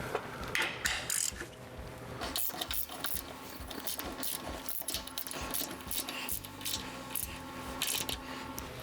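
A wrench tightens a 13 mm brake bolt on a PSC Big Bore XD steering gearbox fitted to a Ford F-450/F-550 4WD truck, giving quiet, close ratcheting clicks and small metallic rattles in uneven bursts.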